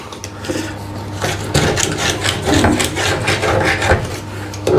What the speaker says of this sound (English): Once you've got all the silicone out, like that, as much as you can, get it all out.